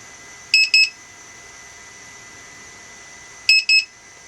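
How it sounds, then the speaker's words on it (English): A Target Hobby 3-in-1 lost-signal alarm sounds two pairs of sharp, high electronic double beeps, spaced about three seconds apart over a faint steady hiss. "60 seconds has gone by and it's alarming"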